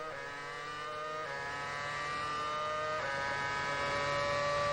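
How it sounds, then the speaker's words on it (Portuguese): Formula 1 car accelerating during 2006 Bahrain Grand Prix qualifying, a high, steady engine whine climbing in pitch through two gear changes, loud and continuous as it approaches. "Vem acelerando."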